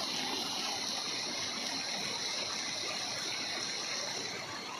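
Floodwater from a typhoon surges past in a steady, broadband rushing wash that stays constant and fairly loud throughout, with no voices on top.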